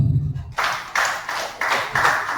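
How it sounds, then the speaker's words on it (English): An audience claps for a speaker at a health research ethics talk, the applause coming in several rhythmic bursts roughly every half second after a brief low voice at the start. "Can we just clap for her?"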